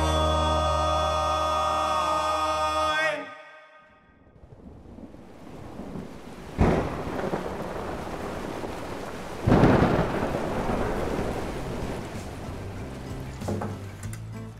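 After a few seconds of music ends, rain falls steadily while thunder cracks twice in loud, rolling bursts, a full thunderstorm heard without voices.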